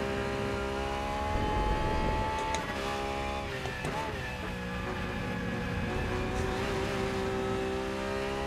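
Racing engine of a BMW M4 or Porsche 911 GT3 R in the Rennsport sim, a steady droning roar with layered harmonic whine that holds throughout, briefly shifting pitch midway, heard from outside the car.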